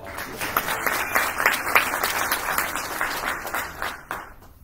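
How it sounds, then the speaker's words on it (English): An audience gives a sustained round of applause: dense, steady clapping from many hands that holds for several seconds, then thins out and tapers toward the end. "You give him a round of applause."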